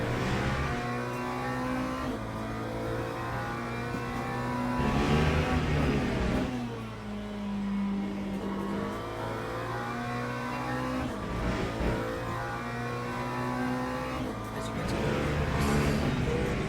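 A GT3 race car in a racing video game circles Laguna Seca, its engine droning steadily with rising and falling revs through shifts and corners, a continuous loud tone throughout.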